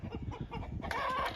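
Hens in a backyard chicken compound cluck and mutter close by, with a brief louder squawk near the end over low scuffling.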